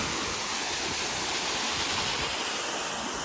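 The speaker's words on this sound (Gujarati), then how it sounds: "આ ખેતરનું જે આખું પાણી છે ને એ આ કૂવામાં જાય" Farm runoff water pours steadily into a village well in rural Gujarat, a continuous loud rushing and splashing with no pauses and no voices.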